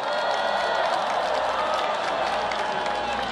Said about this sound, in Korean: 뜨거운 박수 부탁드리겠습니다